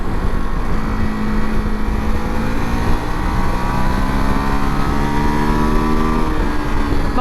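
Close and loud, a Ducati motorcycle engine revs up and drops as gears are changed down, its rising and falling exhaust tones sweeping through several shifts.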